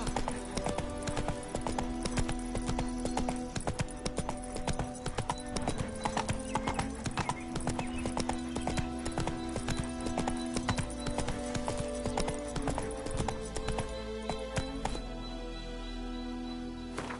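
Hooves of Roach, the horse from The Witcher 3, pound in a fast, steady galloping rhythm over a constant game soundscape, close and continuous throughout, easing slightly near the end.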